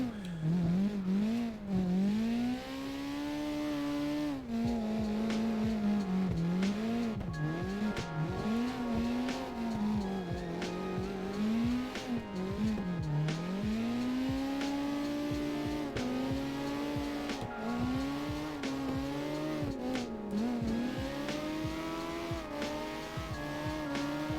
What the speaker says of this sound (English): That way the car kind of just drifts nice and smooth.